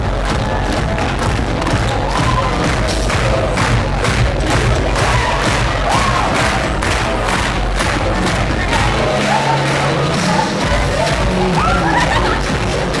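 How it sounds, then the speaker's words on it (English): A loud crowd at a motivational talk claps along in a steady, even beat for about thirteen seconds, with cheering, shouts and thumps mixed into the rhythmic clapping. "Can we get a clap going for them?"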